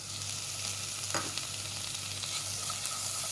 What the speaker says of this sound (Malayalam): ഇതും കൂടെ അങ്ങ് വഴറ്റാം.